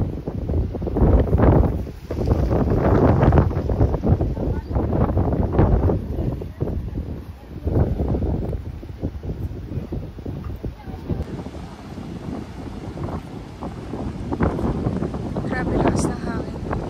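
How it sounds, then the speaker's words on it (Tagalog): Strong wind gusting across coastal sand dunes in Ilocos, heavy buffeting roar on the microphone that rises and falls, with people talking over it. "Grabe lakas ng hangin."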